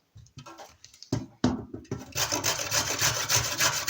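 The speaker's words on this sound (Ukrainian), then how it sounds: "а морквину натерти на велику терку" Rough, rhythmic rasping of a carrot being grated on a coarse grater, starting in short strokes and settling into a fast, continuous scraping close by.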